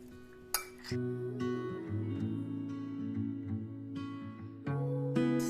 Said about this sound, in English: We'll just mix it well.